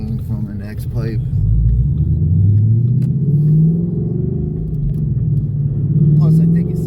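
Deep, steady rumble of a Ford Mustang idling and revving through an axle-back exhaust with an X-pipe, raspy and loud, rising and falling in a few swells, with a voice talking over it at the start.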